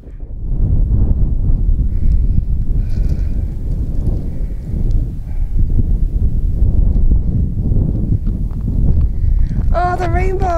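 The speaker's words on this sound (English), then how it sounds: "It's got really windy up here as well" Strong wind roars across a mountain hiking trail in the Wicklow Mountains near Lough Bray, a dense, continuous rumble buffeting the microphone, with a brief voice near the end.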